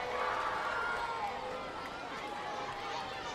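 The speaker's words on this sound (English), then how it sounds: "Nice to see a loud and enthusiastic crowd." A baseball crowd at a Camden Riversharks home game against the Long Island Ducks, a busy, fairly distant mass of cheering and chatter that sustains steadily with an excited energy.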